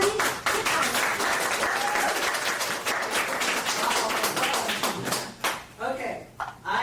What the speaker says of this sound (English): let's give one more round of applause to Kelie Cichoski.